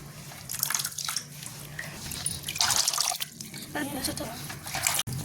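Water running and splashing steadily as lentils are rinsed in hot water, with bursts of louder pouring and a voice talking underneath.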